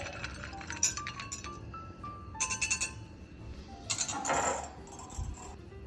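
A whisk clinks against a pot of homemade pumpkin spice syrup over high heat, a series of bright, irregular metallic chinks and rattles, fairly close and moderately loud with short pauses between bursts.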